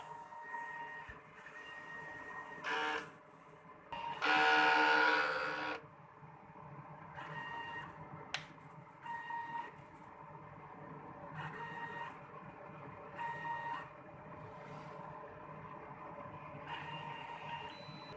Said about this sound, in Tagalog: So, after natin maon yung printer, so mag-head clean po tayo.